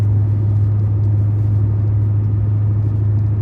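A car coasting along a road with its engine switched off, a steady loud low rumble of tyres and wind noise throughout, with no speech.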